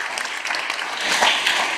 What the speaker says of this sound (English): One applause for him also, please.